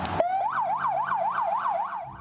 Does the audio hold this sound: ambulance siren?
yes